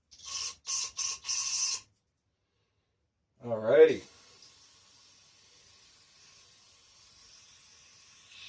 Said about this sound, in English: Spray out all the ports one last time.